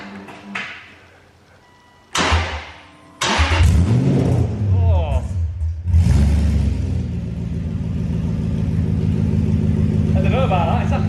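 A straight-piped Aston Martin V8 Vantage cranks and fires up with a loud bark, then revs sharply and settles into a rough, booming idle close by, with people talking over the start.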